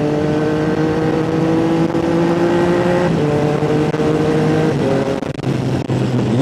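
Triumph Trident 660 with an upgraded aftermarket exhaust, riding and shifting through gears with a quick shifter, its engine note loud and close, holding steady tones that step down at each shift, with exhaust crackle near the end.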